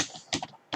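A few quick keystrokes on a computer keyboard while a terminal command is entered, crisp clicks in two short bursts, close and alone.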